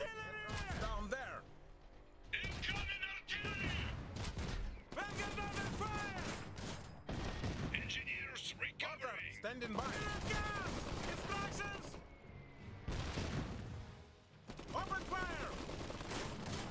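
Gunfire and mortar blasts from the real-time strategy video game Iron Harvest crackle in dense, continuous bursts alongside game music and unit voice lines, with heavy impacts recurring throughout.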